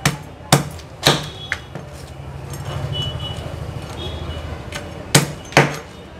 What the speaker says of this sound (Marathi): आता आपण ह्याचे पाय वगैरे कापून घ्यायचे आहेत।